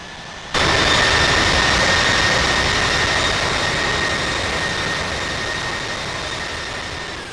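Delta Airbus A350 jet engines roar at runway departure, a loud sustained broadband rush with a steady whine that begins abruptly and holds strong, slowly easing over several seconds.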